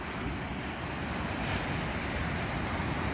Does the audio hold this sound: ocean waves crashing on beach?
yes